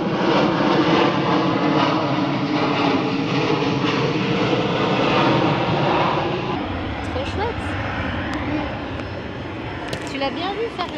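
A 189-seat passenger airplane roars loudly and steadily at an airport, its engine rumble filling the whole stretch before easing slightly, with people talking faintly underneath.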